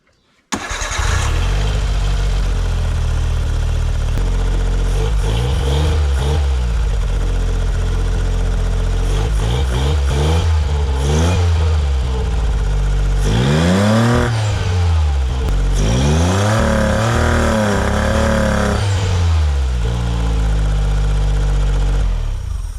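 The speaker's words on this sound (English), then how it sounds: "I'm going to turn on the car and see what happens." Autozam AZ-1 Suzuki Cara small car engine cranks and starts, then idles steadily with several rising and falling revs, loud and close throughout.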